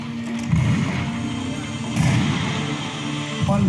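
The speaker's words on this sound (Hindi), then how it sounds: "पल भर में नॉट पावर ने आजाद पर गोलियां बरसानी शुरू कर दी।" Police gunfire aimed at a man hiding behind a jamun tree, rendered as repeated heavy booming shots in three bursts near 0.5, 2.0 and 3.5 seconds over a dense, continuous rumbling background of dramatic sound effects.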